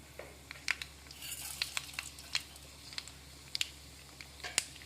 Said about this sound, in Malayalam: അപ്പോൾ എണ്ണ ചൂടായി, നമുക്ക് അതിലേക്ക് കുറച്ച് കടുക് ഇട്ട് കൊടുക്കാം